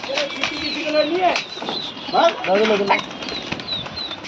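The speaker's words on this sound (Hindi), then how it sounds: "कबूतर को उड़ा दिया गया है दोस्तों।" A pigeon is released during a pigeon-flying contest in Lucknow, near the Medical College crossing. Soft bursts of wing-flapping come and go while voices call and talk nearby.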